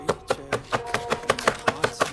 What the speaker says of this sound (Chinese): 主厨让她去切配卷心菜